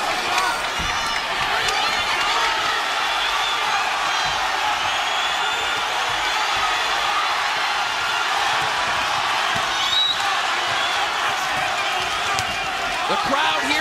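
Boxing crowd at a Las Vegas fight between Serhii Bohachuk and Vergil Ortiz Jr, a steady, dense roar of cheering and shouting that holds loud throughout, with occasional whoops rising above it.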